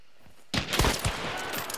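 A sudden burst of gunfire erupts in a shooter video game after a brief quiet moment, with several rapid, loud, close shots running together in a quick volley.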